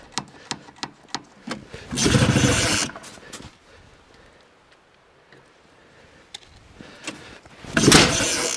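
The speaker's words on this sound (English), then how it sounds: "Oh, backfire." A 1975 Ski-Doo Olympique 340 snowmobile makes a series of sharp clicks and pulls, then two loud bursts of engine noise that sputter briefly, like a backfire, close by.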